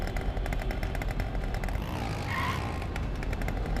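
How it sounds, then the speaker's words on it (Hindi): An ordinary scooter engine in GTA 5 drones steadily at a constant loud level, with a rough, buzzy, slightly rattling note and no talk over it. "ये एक नॉर्मल यूज़ किया जाने वाला स्कूटर है। आवाज़ सुनो,"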